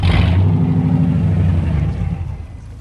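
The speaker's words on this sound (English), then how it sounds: "Now you rev the crap out of it" Car engine with a Ford 10-inch rear end revving hard at close range, a loud sustained roar and throbbing rumble that gradually winds down and fades toward the end.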